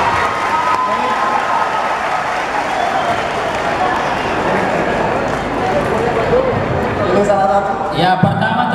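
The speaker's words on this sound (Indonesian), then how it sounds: "pertama tepuk tangan untuk adik-adik kita ini" Crowd applause for young students at a public Q&A event with a government minister, broad and continuous clapping with some cheering, a voice speaking near the end.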